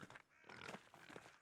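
Pigs grunting in the medieval-setting video game Pentiment, a few short snorting grunts at moderate loudness over a steady game backdrop, with no talk.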